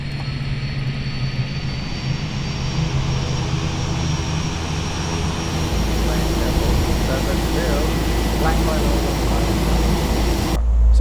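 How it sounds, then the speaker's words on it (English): An aircraft engine in Microsoft Flight Simulator 2024 spools up on the ground at St. Barts, a steady loud whine and rumble that builds and deepens partway through, with a voice talking over it. "Start the engine and get ready for leg 2."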